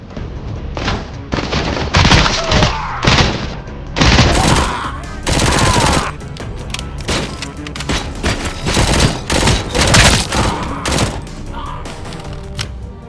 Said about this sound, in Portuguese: os efeitos sonoros das armas são satisfatoriamente impactantes